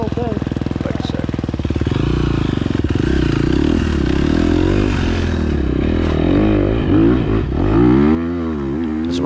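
A 2021 KTM 250 XCF dirt bike rides a wooded singletrack, its engine loud and close with constant revving, shifting pitch and rattling as throttle rises and falls, with a voice talking over it.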